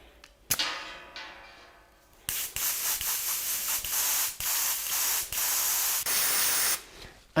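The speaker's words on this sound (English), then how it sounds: "let's put the color in the airbrush and let's spray it on the frame" Steady hissing airbrush spray of paint onto a bike frame in several sustained bursts with brief pauses between them, close by and fairly loud, no voices.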